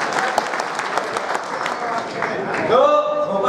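Applause from an audience at a Congress political rally, dense clapping throughout with a voice speaking over it near the end.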